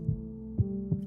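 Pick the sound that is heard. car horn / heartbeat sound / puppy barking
heartbeat sound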